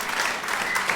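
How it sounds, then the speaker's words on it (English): Audience applause for a performer at a live music show, a dense steady wash of clapping that fills the whole brief moment without any talk. "let's have another clap for David as well"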